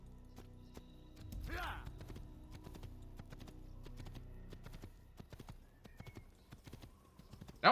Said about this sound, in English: The horse actually follows you.